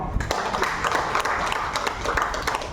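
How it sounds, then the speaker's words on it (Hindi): An audience at a health and diet camp in Sidhpur claps in scattered, uneven bursts, steady applause at moderate volume that carries on without a break. "तो सबसे पहले आप सबके लिए तालियां"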